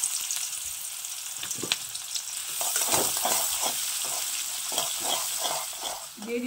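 Onion and nigella seeds frying in oil left over from frying fish, a steady bright sizzle with stirring scrapes and pops throughout.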